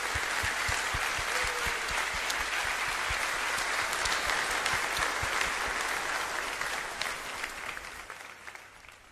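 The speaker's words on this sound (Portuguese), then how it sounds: "Aplaudi ao Senhor Jesus Cristo." Congregation applauding during a ministers' church meeting, many hands clapping in a sustained, lively round that tapers off toward the end, with no talking over it.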